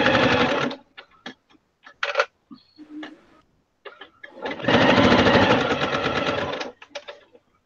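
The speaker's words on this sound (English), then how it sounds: "I'm just going to sew a very, very thin little line here." A sewing machine stitches a very thin seam on a quilted jelly-roll handbag: a close, loud mechanical run, then short ticking bursts and pauses, then a longer steady stitching run that stops abruptly.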